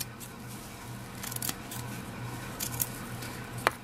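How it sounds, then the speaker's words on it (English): Scissors snip into fabric while a shabby rosette is being made, a few quiet, crisp cuts spaced irregularly over a soft background hush. "just snipping into it, kind of a little bit at an angle"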